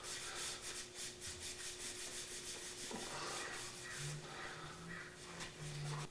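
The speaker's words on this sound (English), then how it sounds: "I used some brake parts cleaner to try to get that off." Old finish is rubbed off the wooden part of an Eames lamp with a rag and brake parts cleaner, producing a faint, steady rhythmic scrubbing over a low background hum.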